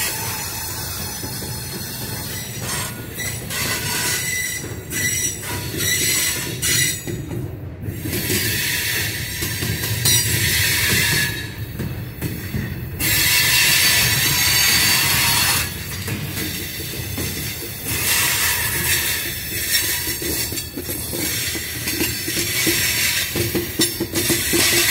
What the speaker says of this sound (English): Check this out. Old GP boxcar.